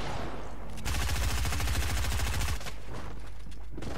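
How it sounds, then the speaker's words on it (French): Rapid gunfire from the Fortnite video game bursts loudly in a dense automatic volley lasting about two seconds, followed by scattered shots and game sounds. "Tout le monde me tire dessus parce que j'essaie de sortir de la zone."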